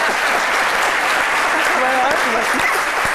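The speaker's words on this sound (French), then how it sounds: "Merci d'applaudir." An audience claps loudly and continuously, a dense wash of applause filling the room at a literature talk, while a voice speaks briefly over it.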